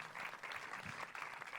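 Dense, steady applause from an audience at a film festival closing ceremony in Saint-Jean-de-Luz, sustained clapping filling the room without a break.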